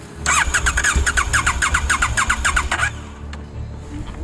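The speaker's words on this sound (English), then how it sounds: "Bike is not starting." A motorcycle's electric starter cranks repeatedly in a fast, even rhythm for about two and a half seconds as the engine fails to catch, then stops, leaving quiet background hum; close and loud, no speech.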